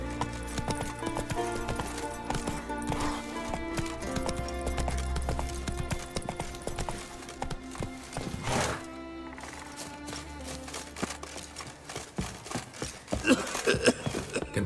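A horse gallops in The Witcher 3 video game, its hooves clip-clopping in a loud, rapid, continuous rhythm close by, with occasional thunks and a brief whinny-like sound over a background of game music.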